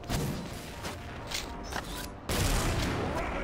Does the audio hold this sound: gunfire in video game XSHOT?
yes